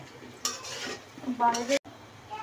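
A spoon stirs spicy potato curry in a pan, scraping and clattering in bursts over a soft background sizzle, with a sharp metallic scrape near the end.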